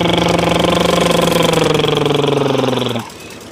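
A toy JCB digger runs with a steady, pulsing, buzzy electronic motor tone. The sound is loud and close, and it cuts off abruptly near the end, leaving faint residual noise.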